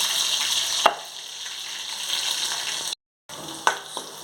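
Onion and garlic fry in a pan with a steady broadband sizzle, while a couple of sharp stirring clanks cut through near the start and the end and a brief gap breaks the sound.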